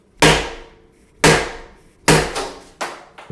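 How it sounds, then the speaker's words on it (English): A hammer strikes the metal cylinder of an office chair in several sharp, loud metallic blows, spaced irregularly about a second apart, each ringing briefly before fading. "you simply need to use a hammer or a sledgehammer and hit the metal part of the cylinder to remove it"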